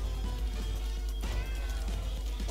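A cat meows in the Tower Unite video game, a clear drawn-out in-game call with a second rising meow, heard over a steady low rumble and background game sound.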